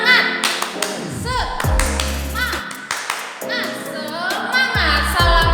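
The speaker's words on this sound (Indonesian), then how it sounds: "Tepuk semangat." A classroom does the 'tepuk semangat' spirit clap, loud rhythmic group clapping in quick patterned bursts mixed with children's voices chanting along.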